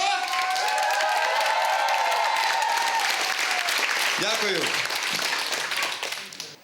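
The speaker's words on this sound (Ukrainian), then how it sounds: "якщо ви мені так поаплодуєте, що нікому так не аплодували" Loud, dense audience applause at a Ukrainian comedy show fills the stage room for several seconds, tapering off near the end as a performer speaks briefly over it.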